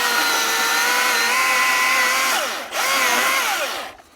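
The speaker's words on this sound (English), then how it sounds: "pull the electric chainsaw out" An electric chainsaw cuts through roadside brush on rural wooded land in Maine, its steady high whine running close and loud, then dipping briefly as the cut finishes before revving up again and trailing off at the end.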